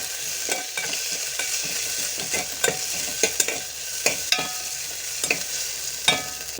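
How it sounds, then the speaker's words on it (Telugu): Ginger garlic paste fries in a pan with a continuous sizzle, while a spoon stirs it in irregular scraping taps throughout, close and clear with no speech. "లైట్గా అల్లం వెల్లుల్లి పేస్ట్, యాడ్ చేశాను. దీన్ని కలుపుతాను."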